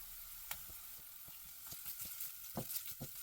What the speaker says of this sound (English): I'm using low heat because I don't want the ginger garlic to be overcooked